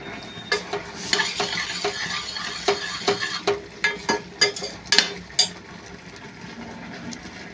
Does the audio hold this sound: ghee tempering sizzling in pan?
yes